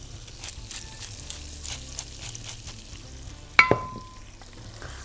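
Warm olive salad mixture with spices being stirred in a pan, giving a soft, steady sizzle with light scraping strokes and a sharper clatter of the utensil near the end.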